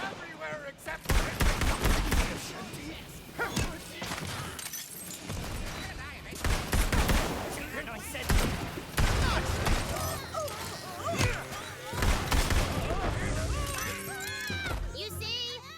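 Rapid, heavy gunfire from a fantasy looter-shooter game, Tiny Tina's Wonderlands, with dense overlapping bursts and impacts sustained throughout, layered with game effects and a voice talking over it.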